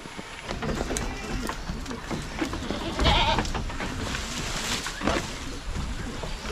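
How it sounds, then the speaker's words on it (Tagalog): Goats on a farm bleat repeatedly at close range, their cries rising over steady rustling and background noise, with a person's voice heard at times. "Nag-ingay agad yung mga kambing natin, oh."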